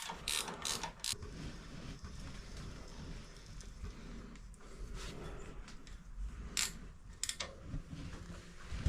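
A ratchet clicks rapidly while snugging bolts on a custom bike, in short bursts of ratcheting with pauses, fairly close and alone.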